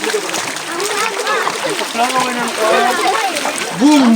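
Splashing water from footsteps wading through a shallow hill stream at Penchal Kona, mostly buried under several people chattering nearby.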